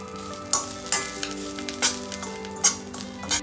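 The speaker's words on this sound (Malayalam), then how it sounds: "ഇനി നന്നായിട്ടൊന്ന് ഇളക്കണേ" Grated coconut frying with mustard seeds, red chilli and curry leaves for Kerala erissery, a close sizzle broken by repeated scraping stir strokes against the pan, with a faint steady tone in the background.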